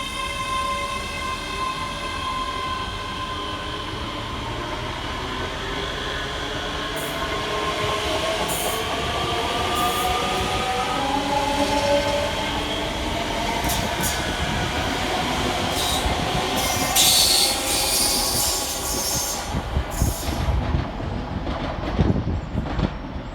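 A pair of ScotRail class 385 electric multiple units pull away from Edinburgh Haymarket station, their motors whining in rising tones as they gather speed. Rumbling wheels and a few sharp rail clicks build until the train passes close by, ending in a brief clatter.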